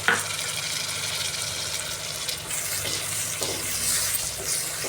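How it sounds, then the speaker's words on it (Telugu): Chopped onions and a medium tomato fry in a pan for an onion egg curry, giving a steady broadband sizzle with soft stirring scrapes throughout, close and fairly loud, no talking. "మగ్గనిద్దాము ఎర్రగడ్డలు మగ్గాయి కదా ఇప్పుడు ఒక మీడియం సైజ్ టమాటా వేసుకుందామండి"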